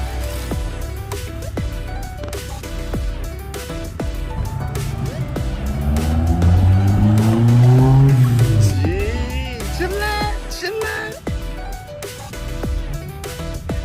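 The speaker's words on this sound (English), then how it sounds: "Burn out, burn out, burn out." Car doing a burnout in a parking lot, with tire squeal rising and falling over a revving engine and peaking in the middle; background noise continues throughout.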